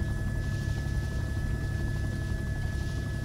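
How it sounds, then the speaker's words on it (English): A helicopter in a video game drones steadily overhead, its low rotor thump and engine hum constant and moderately faint throughout, with no voices. "Helicopter is about to pass over us"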